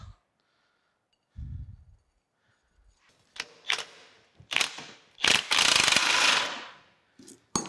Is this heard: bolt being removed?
yes